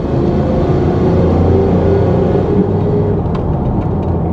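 A 1994 Pontiac Trans Am driving, its engine rumbling loud and steady from inside the car as it moves through a gear change, with a continuous drone and road noise throughout.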